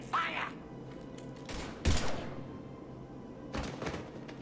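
Gunfire in the video game Mass Effect: three separate bursts of shots, the middle one loudest, over a steady low background hum.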